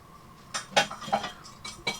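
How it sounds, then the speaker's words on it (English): Cutlery and pots clink and clatter during dishwashing, with several sharp metallic knocks and scrapes in quick, uneven succession, close by and fairly loud, with no talking. "And it's the dishes."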